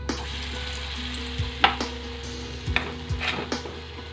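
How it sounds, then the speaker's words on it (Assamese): Oil in a kadai sizzling over the heat in a home kitchen, a low steady frying hiss with occasional metallic clinks and scrapes of a utensil against the pan. "কেৰাহীত তেল দিলোঁ।"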